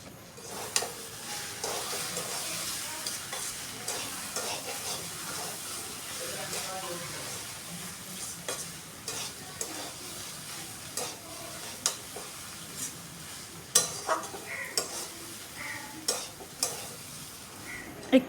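Papaya curry with ground pea lentil paste and a little ghee being stirred in a pan, a quiet simmering hiss with scattered spoon scrapes and clinks that grow more frequent toward the end.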